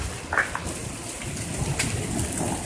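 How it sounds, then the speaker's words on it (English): Hail pours down during a long Colorado Springs hailstorm, a dense steady patter of close impacts with a few sharper hits standing out. "It's all hail."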